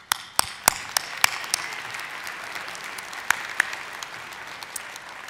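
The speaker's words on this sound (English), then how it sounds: "you need to give yourselves a round of applause" Graduates at a Missouri Western State University winter commencement applaud in a large hall, with several sharp nearby claps standing out over a steady wash of clapping that fades slightly toward the end.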